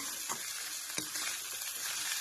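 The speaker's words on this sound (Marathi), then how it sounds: "आता घेते मला मस्त फ्राय परतून घेते" Sabudana tapioca pearls frying in a pan, a soft continuous sizzle with faint stirring scrapes, close and alone, no talking.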